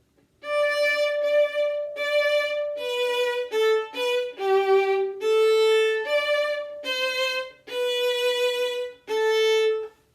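A solo violin plays the first line of a Bach minuet, a simple, stately melody of separate bowed notes with short gaps between phrases, close and clear, with no talking.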